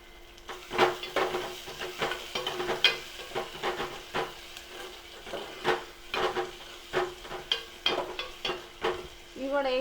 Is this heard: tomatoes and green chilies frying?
yes